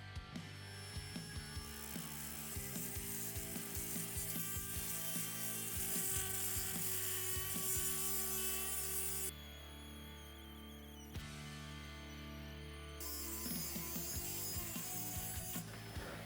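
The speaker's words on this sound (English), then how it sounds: "are going to cut through this 3/8 size bolt with the easy cutting wheel" A Dremel 8260 brushless rotary tool runs a cutting wheel through a 3/8 steel bolt, a loud steady high-pitched grinding whine with rapid rattling bursts early on and shifts in pitch as the cut proceeds.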